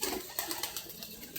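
Crested pigeons give soft, faint coos with a slight flutter, close by but quiet, over a brief stretch with no voices.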